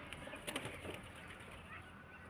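Soft pigeon cooing and faint bird calls over a steady outdoor hiss, fairly quiet and distant, with no talking.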